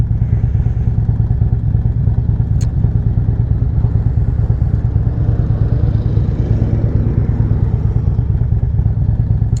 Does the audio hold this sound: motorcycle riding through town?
yes